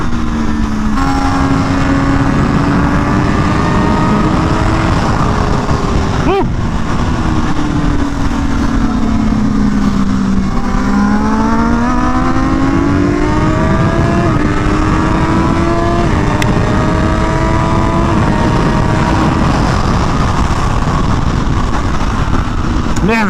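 A new race motorcycle's engine revving and pulling hard through the gears at full volume, a steady loud roar with rising and falling pitch sweeps throughout.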